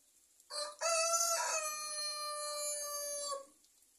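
A rooster crows once in a long, clear cock-a-doodle-doo lasting about three seconds, fairly close in a quiet backyard garden, with a brief preceding squawk and no talk.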